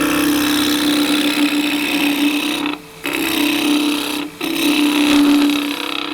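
A wood lathe turns a scrap-wood spatula paddle as the gouge takes it down, a steady loud whirring hum with a constant tone, briefly cut twice when the tool lifts off.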